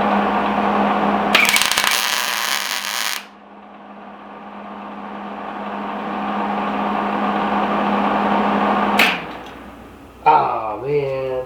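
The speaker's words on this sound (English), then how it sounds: "We're going to see if it'll hold the weld." Arc welding a hinge onto the steel top of a quench tank, a steady buzzing hum with a brief harsh crackling burst near the start, then abrupt sputtering bursts toward the end with a voice briefly over it.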